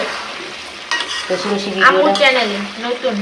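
Fried rice gets stirred and mixed in a frying pan, with scraping spatula strokes and metal clinks over a soft sizzle, close and fairly loud, while a voice speaks faintly in the background.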